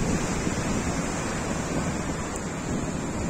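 Sea waves washing onto Khafji beach on the Saudi coast, a steady broadband surf wash with wind buffeting the microphone, continuous and fairly loud with no talking.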